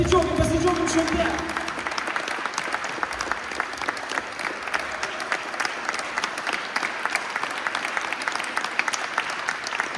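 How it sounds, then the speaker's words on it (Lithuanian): An audience at a school's March 11 celebration by students of Trakai Vytautas Magnus Gymnasium breaks into dense, steady clapping that lasts about ten seconds, with a brief voice right at the start. "Ir visiems jums žiūrovai, aplodismentai, pasidžiaugiam švente."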